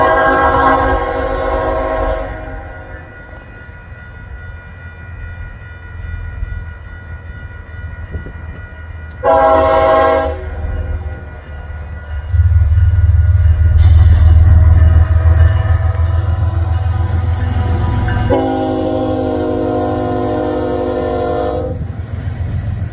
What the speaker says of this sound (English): That coal train